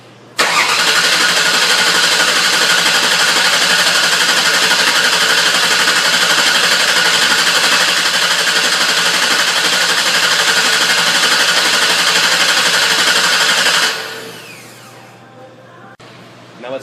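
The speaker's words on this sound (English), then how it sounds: "Alright, we're going to go crank it" A Ford Taurus with a 3.0L 12-valve engine cranks after head gasket replacement, a loud, steady starter drone held for about fourteen seconds before it cuts off and leaves a faint hum.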